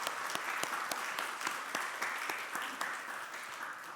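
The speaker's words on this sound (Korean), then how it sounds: "박수로 환영하겠습니다." Steady applause from a church congregation welcoming a newly registered member during a Sunday worship service, even moderate clapping with no speech over it.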